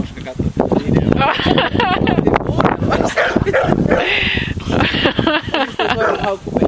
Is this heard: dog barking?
yes